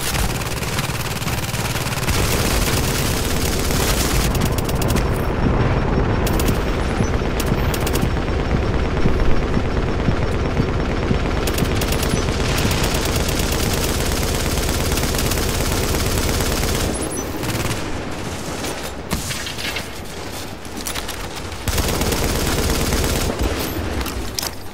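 Sustained automatic gunfire from a video game weapon with the trigger held down, a dense continuous rattle of shots lasting most of the stretch with brief dips near the end, loud and close.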